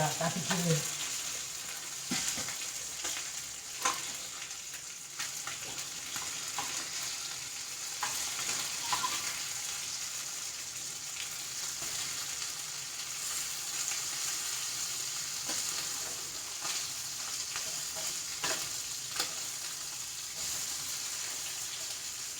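Bral and chemballi fish fry in a pan of hot oil, a steady faint sizzle and crackle running throughout with occasional louder spatters and stirring clinks.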